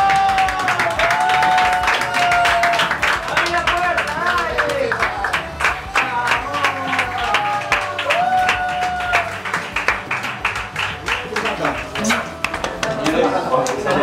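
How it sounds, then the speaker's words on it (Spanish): A film crew claps continuously after wrapping a short film shoot, with dense, close hand claps lasting throughout and scattered voices and whoops mixed in. "Chicos, aplaudamos a Lucas Aranda"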